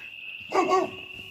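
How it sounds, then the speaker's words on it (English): A single dog barks once at night, short and moderately near, over a quiet background with a faint steady electronic whine. "And now all the stupid dogs are going to get all riled up."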